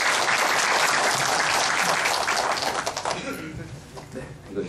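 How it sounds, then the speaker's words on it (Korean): An audience applauds to welcome a university student onto the stage at a book concert in Gwangju; loud, dense clapping fills the first three seconds, then thins and fades toward the end. "우리 대학생 청년 아유 잘생기고 아주 이상 좋아 보이는 임진규 학생을 여러분 박수를 맞이해 주시기 바라겠습니다"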